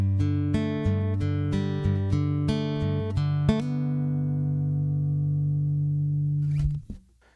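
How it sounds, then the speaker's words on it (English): Finger-picked acoustic guitar run through a Galactavise effect, a series of plucked notes about every half second building into a sustained shimmering wash that holds for a few seconds before a scrape and abrupt cutoff. "I'm going to actually showcase this with finger picking."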